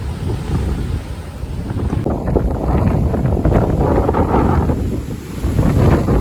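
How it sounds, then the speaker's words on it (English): Gusty wind roars and buffets the microphone during a rain storm outdoors among trees, a loud continuous rushing that swells and eases without any talking. "It's just started raining and the wind's starting to get up."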